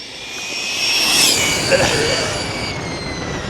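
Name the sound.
RC car with balloon tyres speeding past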